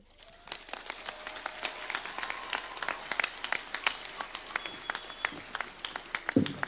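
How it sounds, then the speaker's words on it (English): Scattered, irregular applause from the audience at a university installation ceremony for the Chancellor of the Cooperative University, individual claps standing out across the room at moderate volume. "Another round of applause for the Chancellor, Cooperative University, Dr. Benard Chitunga."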